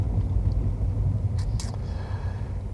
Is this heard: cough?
no